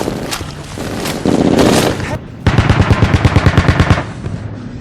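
Machine gun fire from a Band of Brothers war episode, loud close rapid bursts with a long rhythmic string of shots after a short pause.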